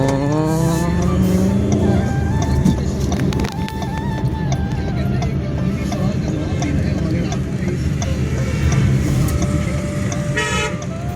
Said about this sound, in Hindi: हम गाड़ी को पार्किंग में खड़ी कराएंगे।